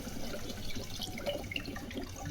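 Water poured from the side into a pan of kofta frying in a home kitchen, giving a steady, close hiss and splashy sizzle that runs unbroken through the moment with no talking.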